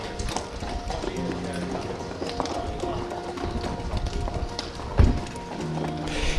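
A racehorse gallops with a rapid, irregular drumming of hooves on turf at moderate distance, a sharper thud near the end, and voices faintly present in the background.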